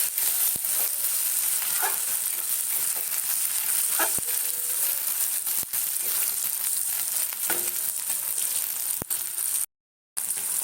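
Onions sizzle steadily in a hot pan for potato curry, a dense continuous frying hiss with a few soft stirring scrapes and clicks, heard up close with no talking.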